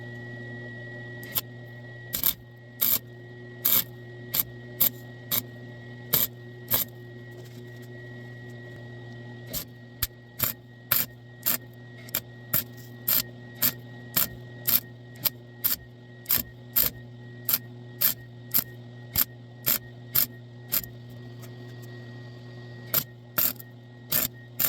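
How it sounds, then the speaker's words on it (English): MIG welding on the rocker panel of a 1984 Ford F250 pickup: short, sharp bursts of welding arc in a steady stop-start rhythm, each tack brief and crackling over a constant low hum, with no talking. "I'm just going to keep welding"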